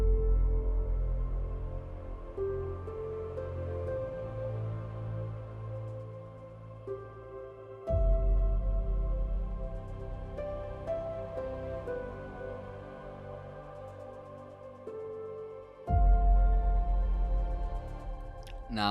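Atmospheric orchestral cue built from piano chords, melody and root notes over string-like pads, with deep sub booms landing at regular intervals and swelling sustained layers between them, alone and without voices.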